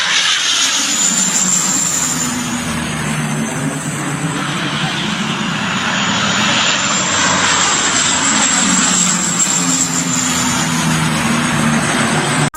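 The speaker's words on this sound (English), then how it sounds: "These firefighting planes dropping a lot of water." A low-flying firefighting plane roars loudly and steadily overhead for the whole stretch, its engine drone continuous and close with a high whine riding above, no voices present.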